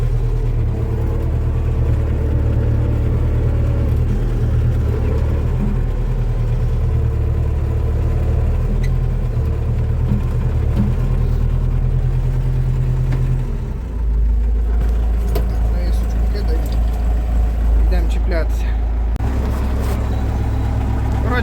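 An MTZ-82 tractor clears deep snow and breaks open roads, its diesel engine rumbling loud and steady throughout, with the load deepening and shifting partway through.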